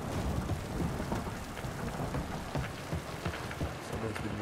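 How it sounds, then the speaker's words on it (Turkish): Heavy rain pours steadily in a Mafia video game scene, a dense continuous hiss with scattered sharper drops and low rumbling underneath, unbroken for the whole stretch. "Yağmur da bayağı bir yağıyor."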